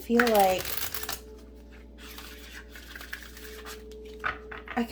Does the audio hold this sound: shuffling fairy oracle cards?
yes